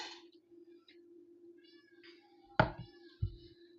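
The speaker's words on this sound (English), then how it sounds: "I've got a timer on my phone for my medicine, and it meows at me." A phone medicine timer set to a cat meow goes off in a quiet room, giving a few soft meowing calls, followed by two sharp knocks or thunks nearby.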